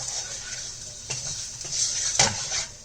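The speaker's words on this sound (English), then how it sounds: "Just fry this in low to medium flame" Spiced eggplant fries in a pan over low to medium heat with a soft sizzle. A utensil scrapes and clinks against the pan several times, and no one talks.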